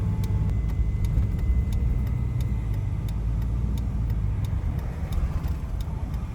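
A CASE 9240 combine harvester drives down a road, giving a steady, dense low engine rumble that holds throughout, with faint regular ticking above it.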